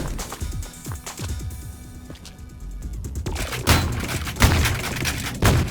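Rapid gunfire in the first-person shooter Ion Fury, with sharp repeated shots and thuds, sparse early then denser and louder bursts toward the end, with no talk.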